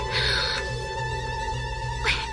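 Mobile phone text message notification tone, two short bright electronic chimes separated by a pause, heard close indoors over a low steady background hum.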